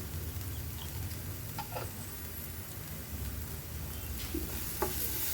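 Spice masala with pepper powder and turmeric sizzles steadily in a hot pan for a paneer dish, with a continuous close frying hiss and occasional faint scrapes of stirring.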